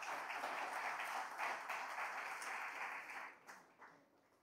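A church congregation claps and applauds together, a steady dense wash of hands that holds loud for several seconds before thinning and fading out at the end.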